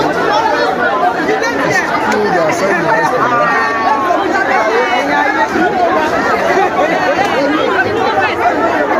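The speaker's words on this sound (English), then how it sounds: "There's too much crowd here." Thick, loud crowd babble fills a Nigerian customs sale of confiscated rice, many voices overlapping steadily and nearby, while one person speaks over the hubbub.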